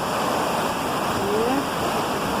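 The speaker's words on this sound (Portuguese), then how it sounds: "Tem bastante queda d'água." Water cascades steadily down a waterfall on the trail to a river falls, a dense, continuous roar of falling water close by that holds unchanged throughout.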